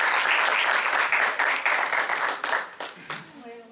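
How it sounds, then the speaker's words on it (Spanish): An audience applauds at an academic colloquium on the Tlacochahuaya organ, a dense, fairly loud burst of many hands clapping that thins and fades toward the end. "les pido un aplauso para ella"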